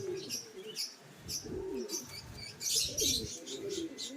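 Soft coos and gurgles from a blue bar racing pigeon come in repeated low bursts, with faint chirping birds in the background.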